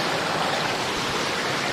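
Water from a tall waterfall dropping hundreds of meters near a stream gives a steady, loud, broadband rush that holds unchanged for under two seconds and then cuts off abruptly.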